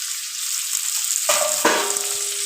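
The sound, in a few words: onions and green chillies frying in a pan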